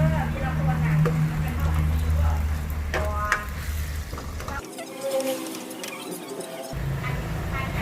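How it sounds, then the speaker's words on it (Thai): Pad Thai ingredients with sugar and fish sauce stir-fry in a pan, a close, steady sizzle with spatula scrapes and clinks, a low hum underneath that briefly drops out. "แล้วเราก็ผัด ผัดให้ทุกอย่างสุกนะคะ"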